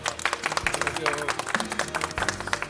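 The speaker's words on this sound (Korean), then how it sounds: "여러분 박수로 맞으십시오" A studio audience claps to greet two guests arriving on a television talk show, a steady mass of applause with crowd murmur mixed in.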